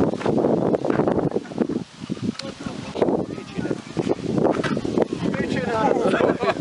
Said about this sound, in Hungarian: Fújja a szél.